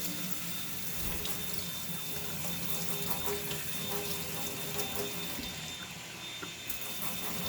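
Water sprayed from a household supply onto a Hot Wheels toy car during cleaning, a steady close hiss of spray with faint splashing, continuous and alone with no talk.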